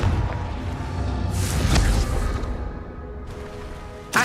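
A Confringo explosive spell in Hogwarts Legacy erupts with a low rumbling boom and swelling whoosh, then a second blast bursts in at the very end, all loud and near with no talking.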